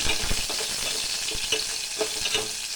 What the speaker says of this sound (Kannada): ಇವಾಗ ಈರುಳ್ಳಿ ಕೆಂಪಗಾಗೋವರೆಗೂ ಫ್ರೈ ಮಾಡ್ಕೊತಾ ಇದ್ದೀನಿ.